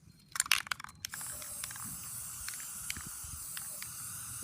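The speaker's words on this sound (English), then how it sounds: "This is just regular household red spray paint" Regular household red spray paint sprayed from an aerosol can onto an eggshell pencil holder: a few short hissing bursts with rattling up close, then a steady faint hiss running on quietly.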